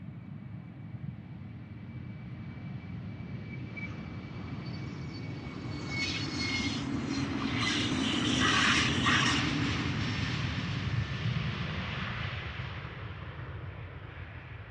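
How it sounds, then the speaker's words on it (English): An Embraer 190 jet at Amsterdam Schiphol Airport produces a broad, steady engine roar that swells toward the middle as it passes, then eases slightly, heard from some distance with no talk. "Now, another NANA Embraer 190 over there."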